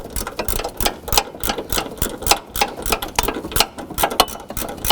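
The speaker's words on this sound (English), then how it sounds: "we switched over to a 14mm ratchet wrench." A 14mm ratchet wrench turns a transmission mount bolt on a 2007-2011 Honda Civic, giving quick repeated clicking strokes in a steady rhythm, close and clear.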